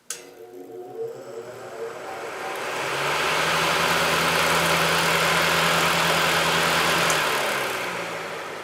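A vintage Patton U2-1872 fan motor set to high spins up from a low hum into a loud, steady whirring roar that holds, then eases slightly at the end. No voices are heard.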